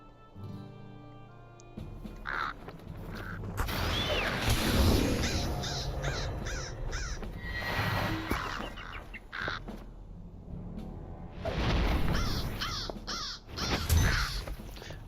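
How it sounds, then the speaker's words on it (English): Crows caw repeatedly in The Lord of the Rings Online, their harsh calls close and loud over busy game ambience, in bursts that swell toward the end. "It sounds like crows."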